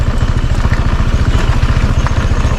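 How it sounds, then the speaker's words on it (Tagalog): Heavily loaded motorcycle engine labours close by, a loud, rapid, steady low-pitched thumping with clattering mechanical noise throughout. "Mabigat naghihirap na motor."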